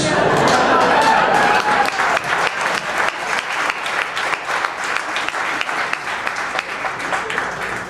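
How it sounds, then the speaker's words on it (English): A comedy club audience breaks into sustained applause, many hands clapping densely at first and then settling into a steady, slightly thinning patter that continues throughout. "And I had no idea they would actually clap when I said that."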